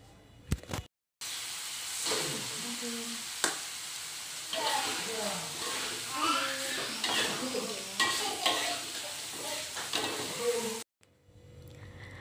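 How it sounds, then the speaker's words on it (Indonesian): Potatoes tipped into cooked sambal fry with a steady loud sizzle while being stirred, with scraping and clatter against the pan throughout and a brief quiet gap near the start and end. "Nah, ini sambalnya udah mateng ya. Aku mau langsung aja masukin kentangnya dulu."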